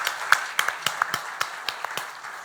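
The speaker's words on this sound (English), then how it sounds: "Let's give her a big round of applause." Sparse, scattered hand claps ring out, about a dozen sharp snaps spread unevenly over a couple of seconds, fairly close and not building into full applause.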